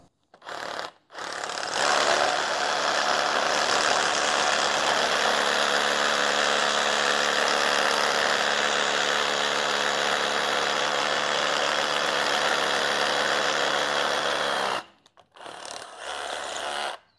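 A Bosch GBH 187-LI cordless rotary hammer drilling into concrete, a loud continuous hammering drone running for about thirteen seconds with short quiet gaps before and after.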